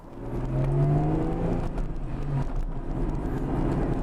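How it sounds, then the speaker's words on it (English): A 1995 Acura NSX-T sports car engine hums and revs as it pulls away, a steady mid-pitched drone rising then settling, fairly close with no voices. "let's go ahead and take this car out for a spin"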